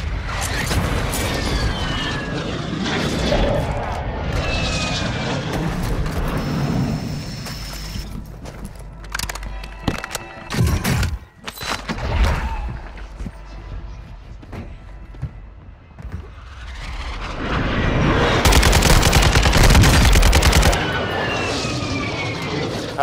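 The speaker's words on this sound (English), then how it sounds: "There's a mortar strike, boys." Mortar strike explosions in Call of Duty Warzone boom and crackle through a dense, roaring battlefield mix, with sharp bursts around the middle and a heavy rumbling surge near the end.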